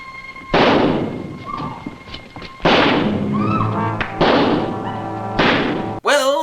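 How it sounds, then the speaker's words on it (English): Gunfire in an attempted shooting outside a casino in a 1954 television drama: four loud booming shots, each trailing off in a long echoing decay. "James Bond as the victim of an attempted shooting outside the Casino Royale"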